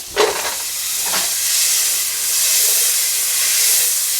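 Onions dropped into a pan of hot butter, a loud steady sizzle and hiss with a couple of sharp bursts near the start, no talking.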